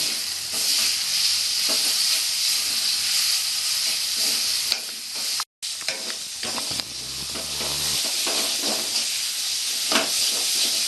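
Spices sizzle loudly and continuously in a hot pan, with scraping stirs throughout and a brief break partway through, before mutton keema is added.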